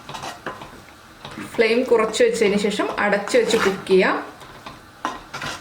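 A ladle stirs a bubbling ridge gourd and prawn curry in a pot, with scraping, clinking strokes in a quick burst over a soft simmer while someone talks throughout.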